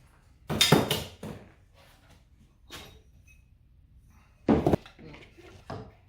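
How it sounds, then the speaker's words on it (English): Metallic clanks, scrapes and knocks come in short separate bursts with quiet gaps as a pulley is worked off the motor shaft of a Grizzly 2x42 belt grinder. "Take off this pulley here."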